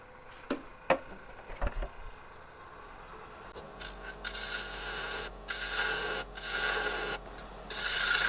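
A tool blade is sharpened with a few scraping strokes at first, then a longer stretch of steady, close rubbing and rasping in bursts, quiet against a low background hum.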